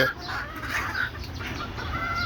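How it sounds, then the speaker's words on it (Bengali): Hens cluck in short repeated bursts amid a busy background of other fowl noise, fairly close and steady throughout. "এই যে দেখেন একটা মুরগি এখানে"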